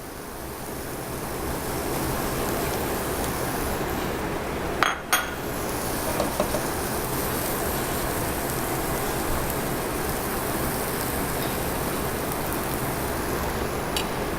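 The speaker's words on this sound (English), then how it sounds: "So you can hear this starting to simmer." Fried rice ingredients simmer in oil in a pan, a steady, loud, rain-like sizzle running the whole time, with a couple of brief metallic clinks near the middle.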